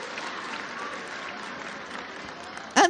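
Steady crowd applause fills a political rally in Ecatepec, a dense wash of clapping held at an even level throughout, with a sharper burst of noise close by near the end.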